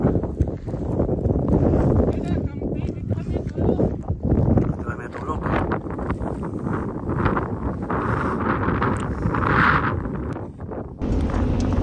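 Strong wind at a campsite buffets the microphone with heavy, continuous roaring gusts, while a person talks underneath.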